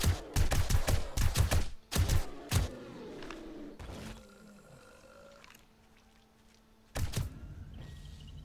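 Gunfire in the video game 7 Days to Die (Darkness Falls mod): a rapid burst of loud close shots, then a few more single blasts, fading into a quiet rumbling tail, with another shot near the end.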